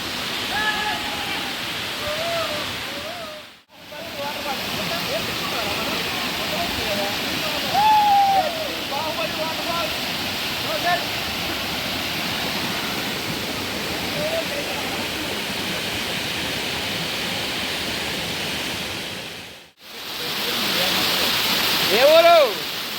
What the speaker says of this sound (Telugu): లేదు కానీ ఇది ప్రకృతి వల్ల ఏర్పడిన వాటర్ ఫాల్స్ చూడండి